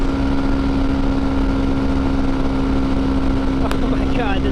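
A Honda CRF250L Rally motorcycle cruises at about 75 mph in top gear, giving a constant loud engine drone mixed with heavy wind rush and a single steady tone.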